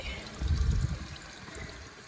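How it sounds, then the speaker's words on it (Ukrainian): Water running from a public drinking fountain on a Vienna street, a short soft splashing pour that swells briefly then settles into a faint steady trickle amid light outdoor ambience. "Де то можна побачити ось такі гарнесенькі питні фонтанчики."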